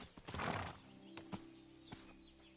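Horse hooves clip-clop on the ground in Kingdom Come Deliverance 2, with a whinnying neigh rising early and a few more scattered hoof beats and faint bird-like chirps over a steady low hum.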